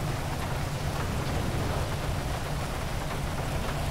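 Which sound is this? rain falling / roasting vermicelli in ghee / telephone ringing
rain falling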